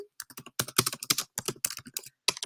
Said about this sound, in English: So I type this in